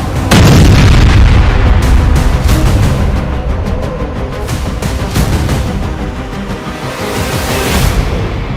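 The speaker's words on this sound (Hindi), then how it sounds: "तब तक जेलेंस्की ने उसके दूसरे हथियार गोदाम को मिसाइल धमाके से उड़ा दिया।" Missile strike on a weapons depot: a sudden heavy blast, then a long loud rumble broken by a string of sharp pops and secondary bangs, with no voices.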